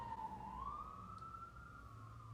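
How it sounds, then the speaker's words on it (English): An emergency vehicle siren wails nearby, a single rising and sliding tone that holds steady over a faint background rumble, with no talking. "I don't know if you guys heard those sirens"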